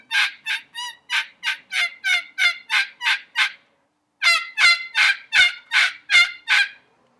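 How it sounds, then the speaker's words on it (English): Small wooden turkey call working out a fast series of gobbling yelps, about ten sharp notes in a run, a brief pause, then another loud, rhythmic burst, close and alone. "by far my favorite turkey call is this little wooden thing right here"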